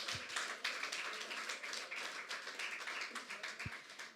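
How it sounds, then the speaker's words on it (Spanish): A church congregation at a Sunday service claps in a quick, steady patter of applause, faint and somewhat distant, with a couple of low thumps. "Dele un aplauso al Señor."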